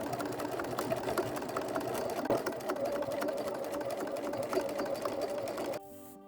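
A sewing machine stitches boning channels closed on a Simplicity S3228 garment, a continuous close mechanical whir with rapid needle ticks that runs for several seconds and then stops.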